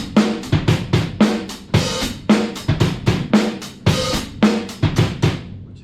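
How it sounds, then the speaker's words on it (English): Drum kit beat with the hi-hat opened by its pedal, heard up close as a loud, syncopated pattern of kick and snare hits under washy open hi-hat strokes. "Also engage the pedal to get an open hi-hat sound"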